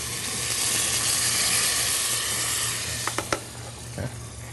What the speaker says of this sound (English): once these onions are clear and the garlic's starting to brown up a little bit